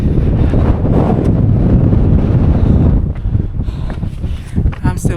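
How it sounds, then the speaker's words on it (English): Strong wind roars and buffets the microphone on a winter mountain trail during a run up Pen yr Ole Wen. The wind is loud and constant, easing slightly toward the end, and someone speaks briefly. "Oh, damn, it's getting more windy."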